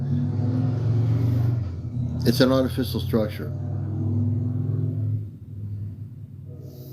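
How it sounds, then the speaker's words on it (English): Cars passing outside at night, a low rumbling engine drone swelling and fading beneath someone talking. "Got trains going by, cars going by. A lot of noise tonight."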